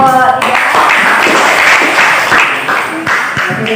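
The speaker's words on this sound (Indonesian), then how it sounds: "Beri tepuk tangan kepada kelompok 3." A school class applauds a student group after its presentation, a loud, close patter of hands mixed with talk; a voice is heard at the start and scattered sharper claps punctuate the clapping.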